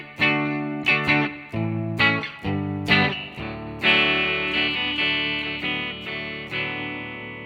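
Electric guitar with effects plays a song intro: repeated chord stabs in a bouncy rhythm, then sustained ringing chords, loud and close, no voices.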